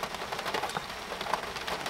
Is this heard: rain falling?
yes